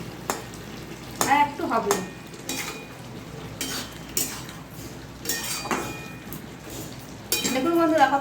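Mixed vegetables stirred in a pan with a spatula, with irregular scraping strokes over a soft sizzle and occasional metal clinks; someone speaks briefly.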